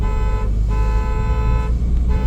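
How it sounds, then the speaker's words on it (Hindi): A car horn is held down in bumper-to-bumper city traffic, a loud, near, sustained tone that briefly dips twice, over constant engine and traffic rumble. "लॉन्ग हॉर्न प्रेस करो।"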